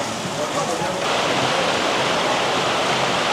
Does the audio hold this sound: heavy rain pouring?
yes